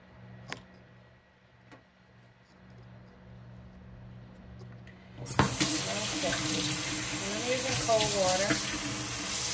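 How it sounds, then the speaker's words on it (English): A quiet room with a few faint ticks, then a tap is turned on and water gushes loudly into a sink to wash seitan dough, with a voice speaking over it. "a lot of people wash it under running water"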